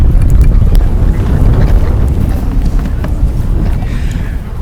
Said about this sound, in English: Let's see if I can fight with the wind